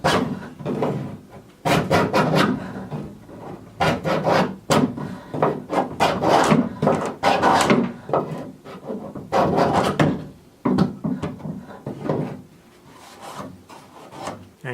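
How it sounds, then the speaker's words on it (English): A narrow paint scraper rasps steadily back and forth over the oak stem of a canvas canoe, stripping old varnish in rhythmic, close, dry scraping strokes with brief pauses between bursts. "I'm going to use a narrow paint scraper to get the old varnish off"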